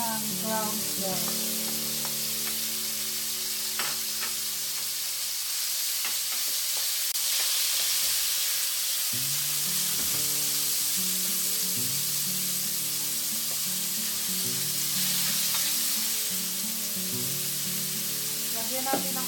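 Ground pork frying in a pan for sweet Filipino-style spaghetti, a steady sizzle with intermittent scraping and stirring clatter, close and moderately quiet throughout.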